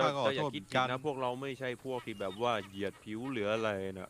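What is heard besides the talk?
No everyday noise stands out behind the speech.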